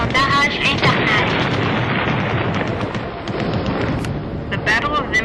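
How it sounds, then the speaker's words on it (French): A Minecraft reenactment of the Battle of Vimy Ridge, with Canadian guns opening an artillery barrage: a loud, continuous roll of overlapping booms and blasts, with a voice speaking over the din. "Plus de 900 canons canadiens ouvrirent feu dans un barrage infernal."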